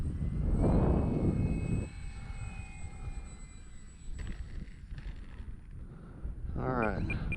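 Engine drone of a Carbon Cub S2 light aircraft while landing in a crosswind, a loud rush at first that eases to a lower, steadier hum, with a voice talking over it.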